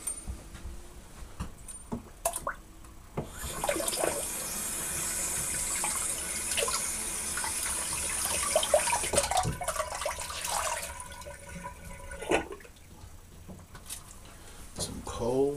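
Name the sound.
water running from a tap into a sink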